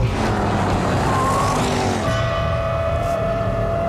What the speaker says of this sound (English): That's the longest protracted tyre squeal in the history of tyres and squealing